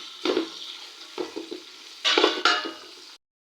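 Half a kilo of large onions frying in a pan for chicken biryani, stirred in several scraping bursts with a hissing sizzle, close and moderately loud, ending abruptly.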